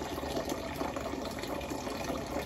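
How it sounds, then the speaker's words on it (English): Tap water pours into a cooking pot for Southern mac and cheese, a faint, steady rushing gush that holds an even level throughout. "So it's almost done filling up with water here."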